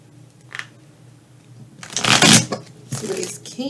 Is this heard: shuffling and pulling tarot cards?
yes